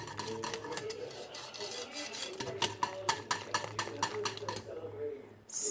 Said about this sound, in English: get back to whisking